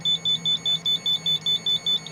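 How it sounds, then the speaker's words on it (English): A travel alarm going off with a loud, regular electronic beeping, about a dozen short high pulses in even rhythm, alone and close. "So there's the second alarm."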